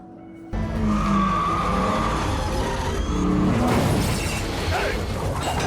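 A car engine roars and revs loudly while tires squeal and skid, continuous and close, with a faint voice underneath.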